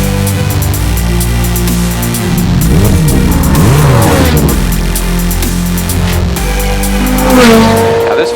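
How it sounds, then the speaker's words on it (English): A Ferrari F430 F1 sports car's engine revs loudly and drives up close, its pitch rising and falling through sweeps over a constant heavy rumble. "this is our Ferrari F430 F1."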